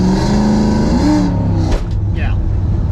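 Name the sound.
loud car engine while driving, sleeper V6 car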